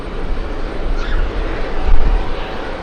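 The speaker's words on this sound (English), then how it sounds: "We have JetBlue about to take off." A JetBlue airliner takes off at JFK airport, a loud, broad jet roar that swells and rumbles close by for a few seconds.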